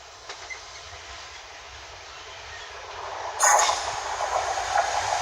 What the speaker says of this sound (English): next train to pass by. Freightliner 66.